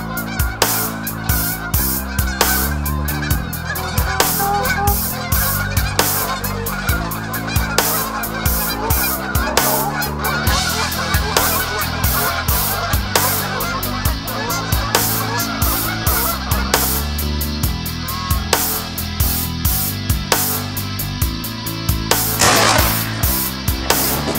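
A flock of geese honks on a goose hunt, loud repeated calls overlapping in a busy, continuous chorus, with no voices.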